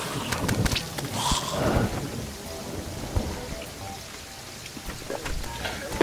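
Steady rain patter with occasional rumbling thunder in the video game Terraria, a continuous wash of noise with low booms and brief crackles, no talking.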